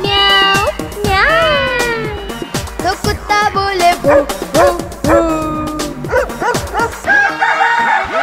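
A cartoon dog in a Hindi nursery rhyme barks and yips in quick, loud bursts over bright music, likely a sung or voiced imitation of the bark.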